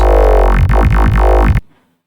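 Loud, thick dubstep growl bass made in Sytrus with its FM removed; the filter sweeps up and down in a steady wah-like wobble about four times before cutting off abruptly.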